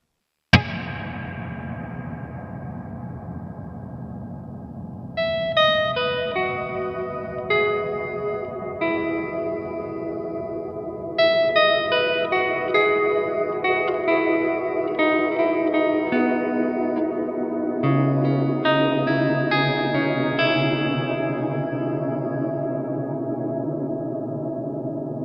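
An electric guitar runs through a Line 6 HX One reverb set to infinite decay: a sharp opening strum, then plucked notes and chords that pile into a sustained, endlessly ringing shimmering wash, loud and alone.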